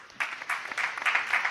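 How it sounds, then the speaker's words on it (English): Short burst of applause from a school debate audience, starting abruptly and continuing as uneven, moderately loud clapping. "A round of applause."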